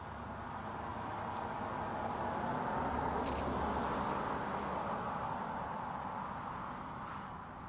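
Cars driving past in the far lane of a road, heard from the roadside: a steady broadband rush that swells to a peak near the middle as one passes, then eases off, with no talking.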